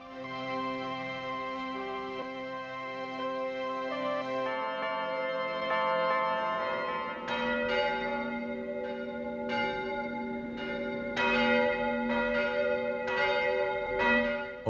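Church tower bells ring in an animated fairy tale set at a cathedral bell tower, a sustained resonant toll building into repeated clanging strikes that grow louder and more layered over a long span.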